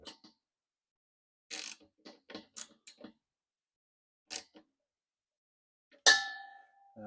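A fitting is snugged up while an air compressor is serviced: sparse metallic clicks and taps in short clusters, close in a quiet space, ending in a louder ringing clang.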